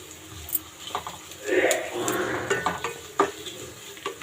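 Split dried red chillies drop into a pan of softening onion tempering for ragi upma, with a rising sizzle and spoon scrapes and stirring clatter under a voice.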